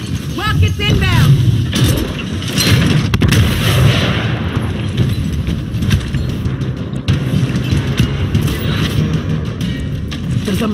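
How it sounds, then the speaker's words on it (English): Rapid booming rocket blasts and crackling gunfire from a chaotic Gears Tactics battle, repeated impacts mixed with shouting voices and mechanical clatter. "Rockets inbound!"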